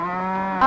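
A cow gives a single short, close moo, which swells in loudness near the end, with no other sound around it.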